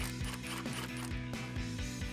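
A ratchet with an 8mm socket loosens an intake clamp on a Silverado 1500, giving quick repeated clicking strokes in a steady rhythm, close and clear with no one speaking.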